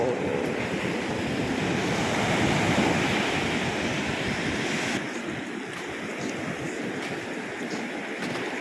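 Steady roar of sea waves washing in, broad and continuous with a gusty wind-like hiss, softening slightly partway through.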